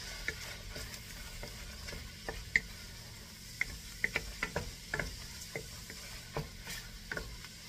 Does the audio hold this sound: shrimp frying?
yes